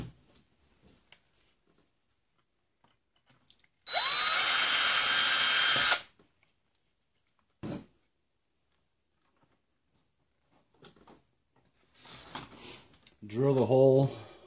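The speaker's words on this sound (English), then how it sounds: "Drill the hole" A power drill whines loudly for about two seconds boring a hole in a plastic toy-grade rock crawler arm, followed by a brief burst, with quiet speech before and after.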